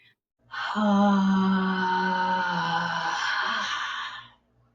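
A long, forceful breath pushed out through the mouth, voiced and groaning, rising quickly and holding for several seconds before fading.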